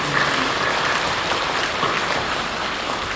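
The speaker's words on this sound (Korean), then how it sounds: "박수를 격려해 주십시오." Church congregation applauding during a worship service, a dense, steady wash of clapping from many hands that holds at a constant level throughout, with no speech over it.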